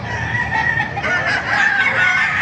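A bulik dome rooster crows and clucks close by at a poultry market. The calls are loud and continuous over a busy background.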